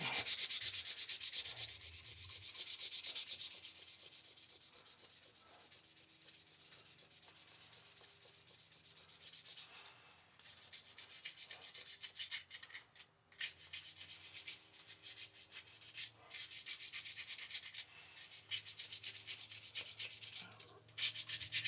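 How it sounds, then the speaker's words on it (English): Steady, close rasping of sandpaper smoothing the sharp edges of an epoxy resin camping knife handle, continuous strokes with brief pauses, no voices. "sand off these sharp edges"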